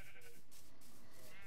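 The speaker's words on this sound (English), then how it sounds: "I got a couple sheep in there" Sheep bleat in the video game Minecraft, a couple of short, nasal bleats sounding close and fairly quiet against a faint background hiss.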